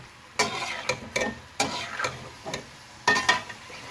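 Sliced medium onion going into a hot pan for chicken keema, with soft sizzling and a series of sharp clicks and scrapes from utensils, close and fairly quiet, no talk.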